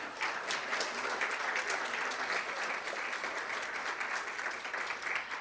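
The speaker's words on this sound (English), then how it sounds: "Now let's give them a huge round of applause." Steady audience applause at a school board meeting, a continuous wash of many hands clapping at moderate distance for several seconds with no talk over it.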